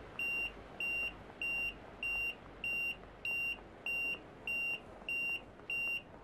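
A repeating electronic warning tone in the Train Sim World 3 simulator on the Glossop Line, ten evenly spaced steady beeps over a low rumbling cab background, loud and without speech.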